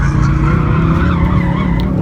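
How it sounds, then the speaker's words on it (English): A 2016 Ford Focus RS at a street car track event, its tires skidding and squealing under hard braking, a loud, close, sustained screech over engine noise for the full two seconds. "Last little bit of drifting acceleration, and then slamming on the brakes into the stop box."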